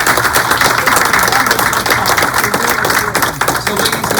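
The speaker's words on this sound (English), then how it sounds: "let's give them a round of applause" A town hall audience applauds staff with dense, loud, continuous clapping from a crowd close by, with no speech over it.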